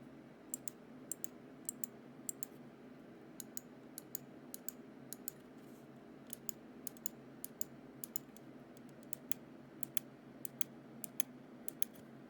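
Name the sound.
clicking computer mouse side buttons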